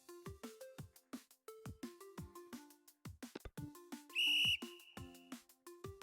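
In a game jam entry, a clear, steady whistle tone sounds once for about half a second, standing out over a bouncy run of plucked, clicking game notes.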